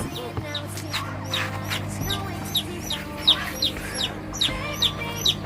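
Hens cluck steadily while chicks peep in high, repeated chirps throughout, close by, with a low steady background hum.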